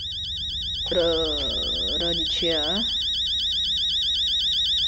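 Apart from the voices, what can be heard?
alarm clock ringing in Fears to Fathom video game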